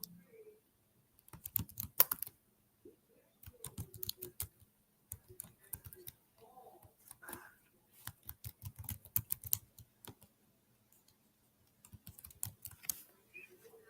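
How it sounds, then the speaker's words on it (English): Computer keyboard keys tapped out in quick, irregular bursts while an email is typed, with short pauses between runs of clicks; quiet and close, with no talking. "I'm going to type my email now."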